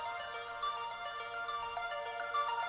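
A sustained synth tone shaped by a comb filter, with a metallic, bell-like ringing shimmer and steady harmonic overtones, held at a soft, even level.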